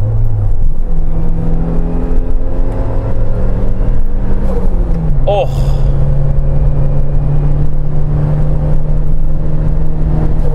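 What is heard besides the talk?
turbocharged Suzuki Jimny engine accelerating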